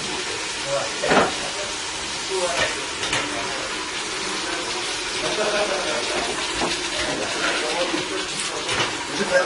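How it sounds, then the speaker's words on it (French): Food sizzling and crackling in a hot pan, a steady bright hiss with occasional stirring scrapes and a few voices nearby. "quand tu entends que ça grésille comme ça"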